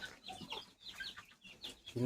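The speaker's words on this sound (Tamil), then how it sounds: "கோழி மேலே உட்காந்துருக்கு" Soft chicken clucks come in short bursts, close by, ending in a louder cluck or flutter.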